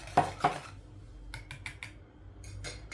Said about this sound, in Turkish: Çırpıyorum. Tüm malzemelerimizi çırptım.